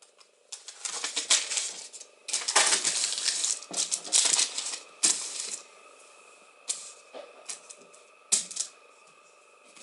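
A paper bag crinkles and rustles up close in irregular bursts as it is handled and folded for reuse in a crochet journal project.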